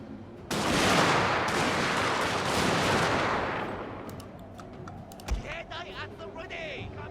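Heavy massed musket and rifle volleys in the Fall of the Samurai strategy game during the Siege of Osaka Castle, a dense crackling roar that swells then thins into scattered shots, with someone talking over the battle.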